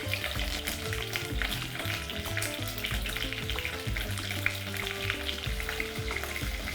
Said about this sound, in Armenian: Որպեսզի յուղը չցայտի, երբ բդիկները տապակվում են, վրան ցանց կդնենք այսպես